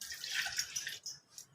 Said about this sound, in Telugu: 2 కప్పులు వాటర్ పోసుకున్నాం.